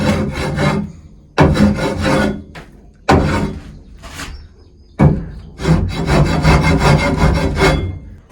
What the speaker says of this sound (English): That scraper works great for getting the stuck poop off the roost bars and stuff.